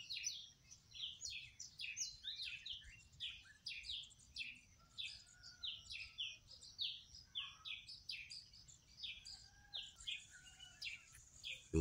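Several tiny backyard birds chirp in quick repeated high tweets, fairly close and steady throughout, with occasional softer calls further off and a faint low outdoor rumble beneath.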